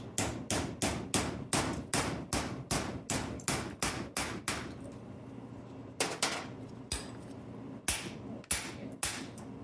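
A hammer striking a chisel down onto steel while working on a GM 3.0L or 3.6L starter: a brisk run of sharp, loud metallic blows in steady rhythm, then a pause and a few more spaced strikes, close by.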